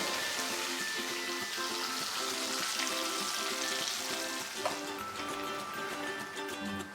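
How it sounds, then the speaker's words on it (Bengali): Steady, dense sizzling of potatoes frying in oil on low flame for fish biryani, continuous and close throughout with no talking. "আমরা লো ফ্লেমে আলুগুলো ভাজবো"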